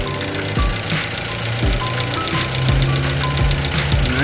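A 2015 Jeep Renegade engine idling close by, a steady mid-pitched hum with regular soft clicking pulses about once a second.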